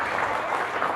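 An audience at a school graduation evening in a mosque applauds, a steady dense wash of clapping from a crowd, fairly loud and continuous with no clear voices.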